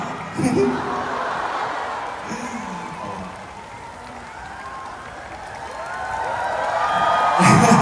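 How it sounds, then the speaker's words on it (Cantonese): A concert crowd at the Kingdom show in Hong Kong applauds and cheers, a broad wash of clapping and shouts that dips in the middle, then swells loudly again toward the end, with a few scattered voices. "做咩俾掌聲"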